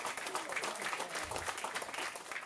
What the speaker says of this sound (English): Clap it up for Ray Dejon.